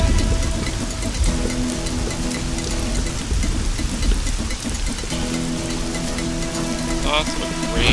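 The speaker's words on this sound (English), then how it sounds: "Lots of rain." Rain pours down at the Temple of Rain in the video game Guacamelee! Super Turbo Championship Edition, a dense continuous hiss and patter with game music tones layered over it.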